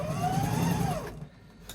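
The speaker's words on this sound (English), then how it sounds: "So I'm going to sew up to the zipper pretty much." A domestic sewing machine stitches along a zipper, a steady mechanical whir running close and fairly loud for about a second before stopping, leaving a quiet tail with a faint click at the end.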